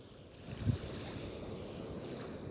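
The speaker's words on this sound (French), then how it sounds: "La plage, rien que pour moi tout seul, au Morne." Ocean waves at the beach at Le Morne, Mauritius, make a low, steady wash with soft wind noise and one brief thump near the start.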